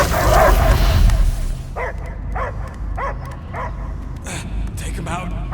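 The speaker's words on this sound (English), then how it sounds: "I hear only barking." Dog barks and yips from Marvel's Guardians of the Galaxy video game on PlayStation 5 come in a rhythmic series of sharp bursts, following a loud opening stretch of mixed game sound and heard over a steady music and ambience bed.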